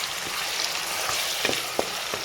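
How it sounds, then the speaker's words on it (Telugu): Onion frying in a pan for Telugu fish pulusu, a close, steady sizzle broken by a few sharp stirring clicks and scrapes over two seconds, no voices. "ఇప్పుడు నెక్స్ట్ ఇందులోకి ఉల్లిపాయ పెట్టి యాడ్ చేస్తున్నానండి ఇట్లా బాగా ఫ్రై చేస్తాం"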